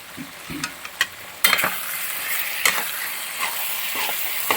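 Kappa biriyani, a Kerala-style dish of cassava and beef, being stirred in a pan, with a spoon scraping and knocking in a few close clicks over a steady frying sizzle that grows louder partway through.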